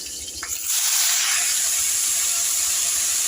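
Chopped amaranth greens hit hot oil with garlic and chili, and a sudden loud hissing sizzle bursts up and then holds steady and strong right to the end.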